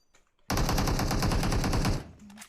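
Automatic weapon fire in the mobile video game PUBG Mobile: a loud, sustained burst of rapid shots lasting about a second and a half, followed by a few fainter distant pops.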